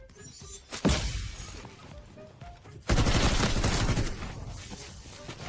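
Gunfire erupts in the video game Delta Force: a sharp loud shot near the start, then a sustained heavy burst of rapid fire that gradually fades.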